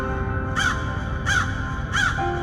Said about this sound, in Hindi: वही एक कौवा भी पानी की कमी से पीड़ित था।